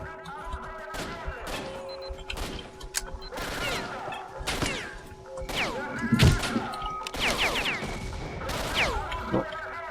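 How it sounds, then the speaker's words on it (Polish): Gunfire and small explosions in a S.T.R.E.F.A. video game battle: sharp cracks and thuds land at irregular intervals, with one heavier low blast near the middle, all fairly close over a steady background hum. "Mały wybuszek, słyszałem."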